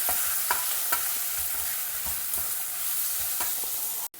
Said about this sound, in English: that is turmeric powder, and salt to taste. Mix it all well together.